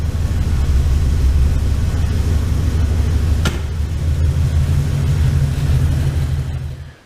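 A Ford Coyote V8 swapped into an 1989 Ford Ranger idles with a loud, steady low rumble that holds for several seconds before cutting off.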